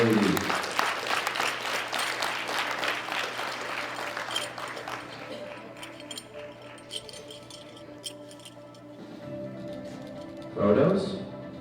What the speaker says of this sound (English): One more round of applause for these three fine young ladies.